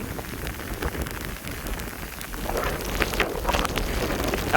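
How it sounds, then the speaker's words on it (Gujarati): Steady rain falls continuously on a surface, a dense even patter that grows a little heavier partway through, with no voices. "એક ધારો ચાલુ થઈ ગયો વરસાદ"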